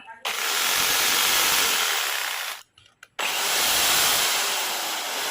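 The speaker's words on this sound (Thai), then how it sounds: "ได้เวลาเปลี่ยนสว่านไฟฟ้าของเราให้เป็นเลื่อยจิ๊กซอแบบง่ายๆ" An ordinary electric drill fitted with a cheap jigsaw conversion attachment whines loudly and steadily for over two seconds, cuts out briefly, then runs again at full speed, close to the microphone.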